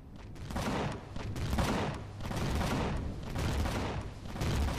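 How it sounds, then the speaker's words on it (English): Defense turrets in the space survival game Empyrion fire at attackers in repeated heavy bursts of rapid shots, loud and close, with short gaps between the volleys and no talk. "And the defense is shooting."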